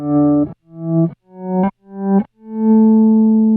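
A Zoom G1 X FOUR multi-effect processor's compressor set to slow attack shapes a run of clean guitar notes. Five notes each swell in gradually before cutting off, the last one held and sustaining; no talking.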